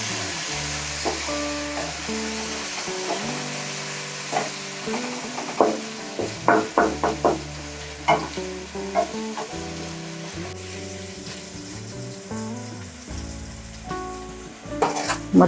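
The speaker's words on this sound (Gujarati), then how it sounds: "કાંદાને આપણે થોડી વાર સડવા દઈશું." Onions frying in a pan for masala dosa, a steady sizzle under scattered stirring clinks and scrapes, with music playing throughout.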